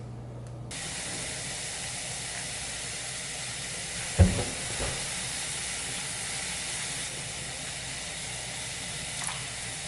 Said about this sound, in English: It's on medium heat, and I just want to keep stirring so that it doesn't stick to the bottom of the pan and burn.